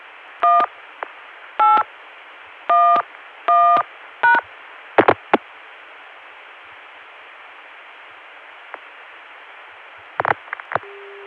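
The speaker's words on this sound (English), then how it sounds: "we can dial 1811 to get back to that Chicago dial tone again" Touch-tone keys dial a number on a 1981 CCSA telephone network, five crisp tone bursts in an uneven rhythm over steady line hiss, followed by a few clicks and short tone blips on the line.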